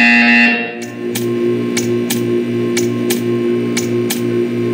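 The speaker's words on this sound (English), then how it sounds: "You will hear a buzzer." A steady electronic buzzing drone from a buzzer in the video game Portal 2, with a sharp tick-like click repeating roughly every half second, loud and continuous, with no voices.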